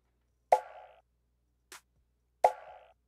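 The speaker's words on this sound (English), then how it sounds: "This is like a snare conga sound." Sharp percussive snare conga drum hits, two strong resonant strikes about two seconds apart with a softer tap between, each ringing briefly then decaying.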